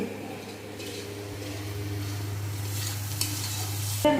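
Pickle of nor (jujube-like sour fruit, pre-boiled) being stirred in a pan, a soft continuous scraping and faint sizzle over a steady low hum, with a sharper clink near the end.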